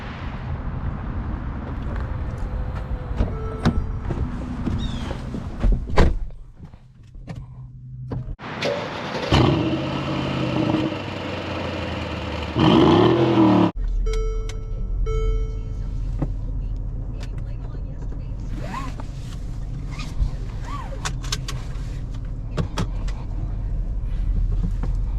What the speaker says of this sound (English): let's get this GLE 63S on the road and see what she's got.